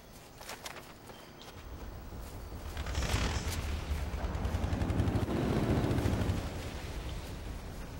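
Turret gunfire in the video game Halo 3, a dense, sustained rumble of shots and blasts that builds and holds for several seconds, with sharp crackling bursts near the start.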